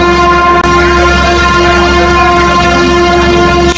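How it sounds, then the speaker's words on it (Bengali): A passenger launch ship sounds its horn in one loud, steady blast that holds for the whole stretch, a deep sustained tone with no break. "সত্যি পেয়েছো লঞ্চের হর্নটা"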